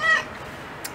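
Injured cat letting out a single short, fairly loud meow at the start, then a quiet pause broken by a faint brief click.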